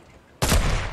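A single loud gunshot in a video game during a build battle cracks suddenly out of near silence, then rings and decays over the following half second.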